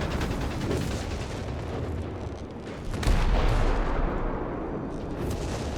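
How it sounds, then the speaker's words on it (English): Artillery fire from the north in Company of Heroes 3 rumbles as continuous booming and crackling battle noise, with a heavier impact around the middle. "Bit of artillery from up north."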